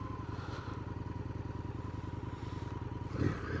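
Indian FTR 1200 motorcycle, 2024 model, riding through the Champlain Valley with a steady, close engine drone and rhythmic pulsing throughout, a brief louder swell near the end.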